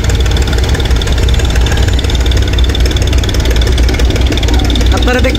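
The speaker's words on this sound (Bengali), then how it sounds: "ভটভটির মতো শব্দ হচ্ছে এমভি কর্ণফুলী 11 থেকে।" The engine of the passenger launch MV Karnaphuli 11 chugs like a bhotbhoti boat motor, a loud steady rumble that never lets up, mixed with wind and crowd noise near Sadarghat.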